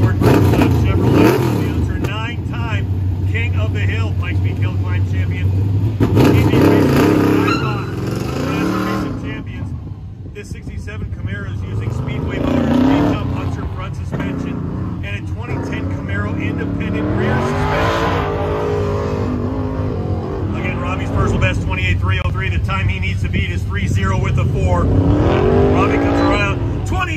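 Race cars at a Goodguys autocross duel in Des Moines, 2022, including a Ford and a Chevrolet, rev and accelerate with rising engine whines and tire noise, loud and continuous beneath an announcer's commentary.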